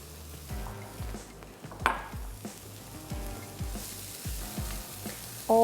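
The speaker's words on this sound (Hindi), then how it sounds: "थोड़ा सा हाई फ्लेम पे इसको पकाएंगे" Cabbage frying on a high flame for vegetable seekh kabab, a steady sizzle with repeated scraping and clinks of a spoon stirring in the pan, close and moderately loud.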